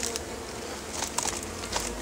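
Bees buzz around an opened bee tree in Deland, its layered comb exposed and covered in sawdust. The steady insect hum sits close and moderately loud, with a few brief crackles over it.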